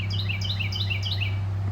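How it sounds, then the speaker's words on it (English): Several birds chirp outdoors in a quick, repeated series of bright tweets, close and clear above a low steady hum. "You hear all these birds around me?"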